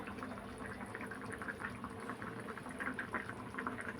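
Okra tamarind curry simmering in a pot on the stove, a soft, steady bubbling boil with small irregular pops, quiet and close, with no voices.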